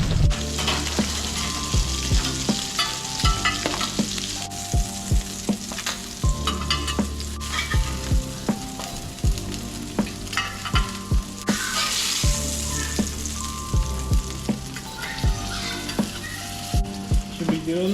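A trout fillet fries skin-down in a pan, loud close sizzling and crackling running throughout, with repeated sharp clatters of a utensil against the pan as it crisps.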